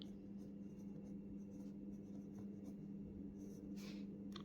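Chalk scratching and tapping on a classroom board during a physics lesson, faint short strokes against a quiet room hum, louder bursts near the end, with no talking.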